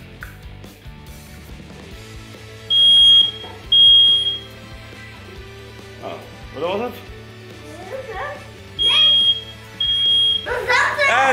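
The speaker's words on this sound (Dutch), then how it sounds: "En dat was ons brandalarm" A school fire alarm sounds in bursts of loud, piercing electronic tones, switching on and off between pauses while children talk and shout around it.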